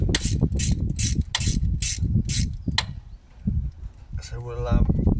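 A ratchet on an extension bar with a flexible extension loosens 5mm Allen bolts holding the coil packs on a Porsche Boxster 986 engine, making repeated rapid clicking bursts up close, separated by short pauses, with some handling noise.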